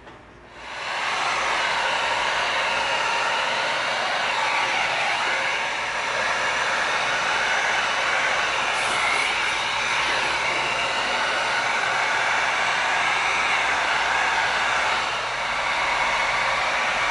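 Steady, loud hiss of a heat tool warming pieces of EVA foam for a shield, starting abruptly and running continuously without pause.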